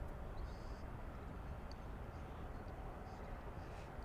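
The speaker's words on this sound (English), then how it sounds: "Good American Flight 2174 coming in from Boston over on the east side of the airport. There it is there. It's an Airbus A321." An American Airbus A321 airliner arriving at DFW airport on the east side drones faintly in the distance, a low continuous rumble blended with wind and ambient noise.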